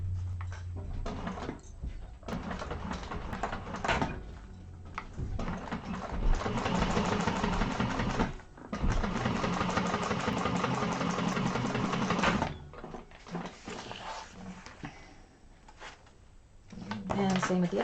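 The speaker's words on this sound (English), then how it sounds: "while we're at the machine, we're going to change to our top stitching length and push that so the seam is going towards that side and top stitch" A sewing machine top stitching through a fabric bag's side panel runs in several long, rapid mechanical bursts separated by pauses, with a person talking over parts of it.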